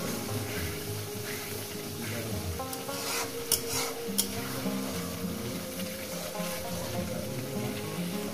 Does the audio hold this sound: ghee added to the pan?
yes